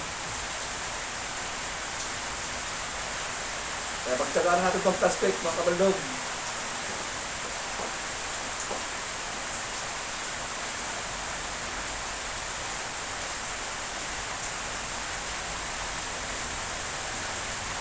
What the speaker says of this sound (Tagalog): umaaraw mo ulan pero malakas ang ulan